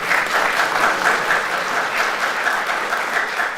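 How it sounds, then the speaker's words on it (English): Audience at a school board meeting bursts into applause after a public comment, a loud, steady patter of many hands clapping throughout with no voices over it. "No clapping, please."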